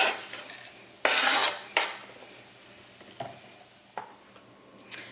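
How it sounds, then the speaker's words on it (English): A knife chops fresh garden parsley on a board, making a handful of crisp, close clacks at uneven intervals, one longer scraping stroke early on, with near quiet between. "I've got a bunch of fresh parsley, actually from our garden, and I'm just going to chop this up as well"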